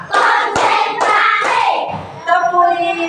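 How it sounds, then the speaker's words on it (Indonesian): A third-grade class of children claps a counting routine in the classroom: four sharp, evenly spaced group claps, then young voices chanting together. "Tepuk 1, tepuk 2, tepuk"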